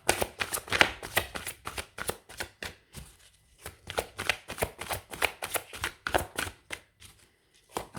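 Tarot cards shuffled briskly by hand in quick, papery bursts, close and fairly loud, pausing briefly midway before resuming in the same rhythm, without speech.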